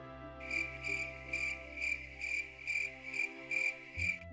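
A cricket sound effect chirps in regular pulsed bursts, about two per second, each a bright trilling trill, loud and close with nothing else heard.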